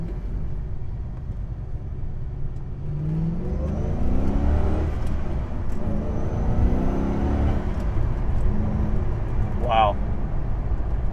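Steady mid-engine growl of a 2005 Ford GT pulling hard from inside the cabin, climbing in pitch through the gears with a brief shift lift, while a person talks over it.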